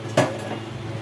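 A metal wok set back down on a home kitchen stove gives one sharp clank with a brief ringing tail, followed by a low steady hum of the burner, close and without talk.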